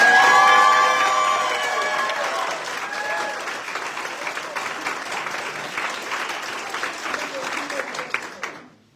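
Audience at a county town hall breaks into loud applause with cheers and whoops, starting strong, then settling into steady clapping that fades out at the end.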